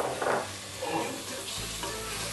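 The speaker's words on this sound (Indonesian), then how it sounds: "Setelah semuanya harum, aromanya udah kerasa, kita tambahkan daging sapinya" Beef pieces sear in a hot pot for Moroccan beef soup, giving a steady close sizzle and crackle with a few stirring scrapes.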